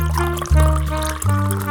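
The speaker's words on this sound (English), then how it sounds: "Add water to how much coffee you want." Water pours steadily into the reservoir of a Gevi 14-cup programmable drip coffee maker, a continuous close liquid stream with slight shifts in pitch as the tank fills.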